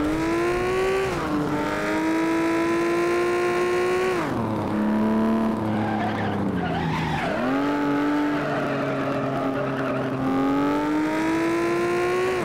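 A car engine in the FlatOut racing game revs loud and continuous, its pitch climbing and dropping through gear changes, with tire squeal mixed in and no talking.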